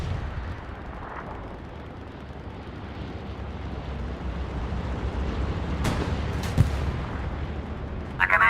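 A bombing run in the Hell Let Loose battle at Omaha Beach produces a continuous deep, distant rumble of explosions, with a few sharper bursts and cracks rising near the end.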